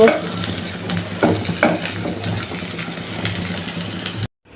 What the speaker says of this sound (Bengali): তেল ছাড়া চিংড়ি মাছটাও ভেজে নিলাম